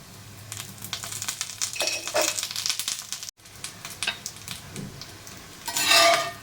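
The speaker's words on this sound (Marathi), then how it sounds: "इथे बघा मीडियम गॅस होते आपण हे थालीपीठ भाजत आहोत याच्यावरती थोडस तूप घालूया" Thalipeeth, a mixed-flour Maharashtrian flatbread, roasts with ghee on a pan over a medium gas flame. It crackles in an uneven sizzle with spatula scrapes and light clinks, rising to a louder hiss near the end.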